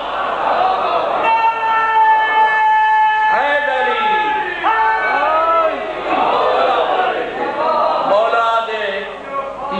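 A crowd of mourners at a majlis in the Imamia Imambargah in Jhelum chants slogans together. The massed voices are loud and sustained, rising and falling in waves for the whole stretch.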